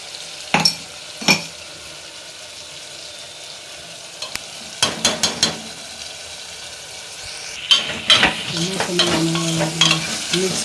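Vegetable curry being stirred and fried in a pan, soft sizzling under intermittent scraping strokes of a spoon against the pan, close by, getting busier toward the end.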